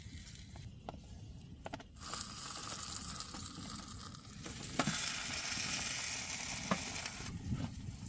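Sweet potatoes and greens heat in a pan with a steady, close sizzle and crackle. Occasional stirring scrapes join in, and the frying grows louder after the first couple of seconds.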